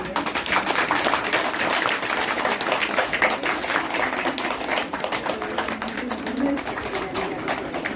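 Partygoers at a home yoga-team party clap together in a steady stream of overlapping handclaps, with voices chattering underneath throughout.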